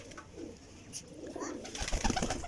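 A teddy pigeon coos nearby in low, throaty bursts, quiet at first and then louder and busier toward the end, with faint rustling around it.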